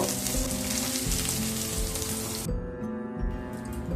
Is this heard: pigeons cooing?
no